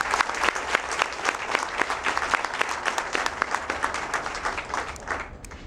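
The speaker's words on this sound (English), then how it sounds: "Please, everyone, clap for that" Applause from an opening-ceremony audience, a dense steady patter of many hands with sharper individual claps standing out, filling the hall for several seconds before tapering near the end.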